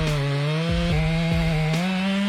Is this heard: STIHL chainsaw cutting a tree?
yes